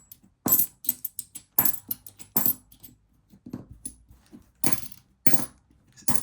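A worn coin is dropped again and again onto a hard surface, each strike giving a short bright ring with small rattling bounces, close and isolated against near silence.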